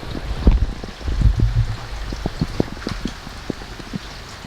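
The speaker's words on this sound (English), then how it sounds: "Kind of hard to tell right now in the rain." Rain falls on a parked car, a Mitsubishi Lancer Ralliart or Evo X, with irregular close drops tapping the body over a steady soft wash of background noise and occasional low thumps.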